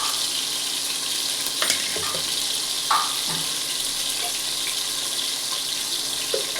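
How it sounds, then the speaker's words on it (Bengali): Soya chunks fry in a pan for a soya curry while being stirred. The oil sizzles and hisses steadily, with occasional soft scrapes and knocks of the spoon against the pan and no talking. "এখন এটাকে পুরো নাড়াচাড়া করব"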